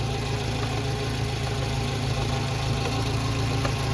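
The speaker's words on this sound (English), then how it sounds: "But as you see, guys, the engine works good." An old Toyota Camry four-cylinder engine idles steadily after its spark plugs are replaced, a continuous close mechanical hum with a low rumble and faint ticking, no talking.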